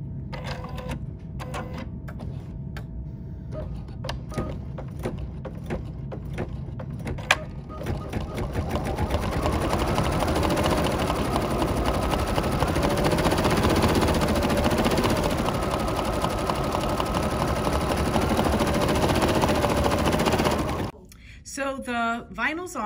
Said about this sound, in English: ready to stitch this.